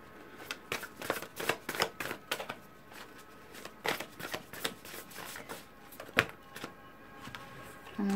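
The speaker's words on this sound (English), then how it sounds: "Well, I'm going to shuffle again there." Tarot cards shuffled by hand in a series of quick, close riffling bursts of crisp card slaps, uneven in rhythm, with brief pauses between runs.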